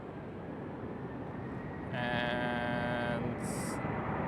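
An Air Europa Boeing 787 takes off from runway 18 Left at Amsterdam Schiphol, a broad steady jet roar that swells partway through as a high engine whine rises over it, heard from outdoors at moderate distance.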